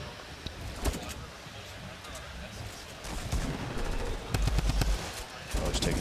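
Gunfire rattles through a Fortnite tournament match, with bursts of sharp shots and rapid fire that thicken toward the end, heard under a commentator's continuous talk.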